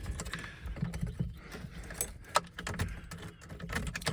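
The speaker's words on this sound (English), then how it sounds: "Keys are in it." Car keys jangle and clink in short, irregular bursts for several seconds, close by, with soft rustling handling noise and no talking.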